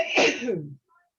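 A single sharp sneeze over an online meeting connection, a loud, brief burst that cuts off abruptly into silence.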